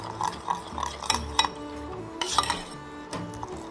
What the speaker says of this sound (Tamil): ஆட் பண்ணி நல்லா மிக்ஸ் பண்ணிடுறோம்